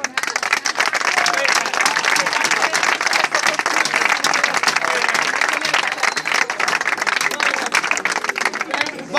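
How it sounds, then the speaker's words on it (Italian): Sustained crowd applause at the festival of the Madonna della Stella in Palagiano, Taranto, dense and loud throughout, with voices mixed into the clapping. "L'applauso va a voi della commissione!"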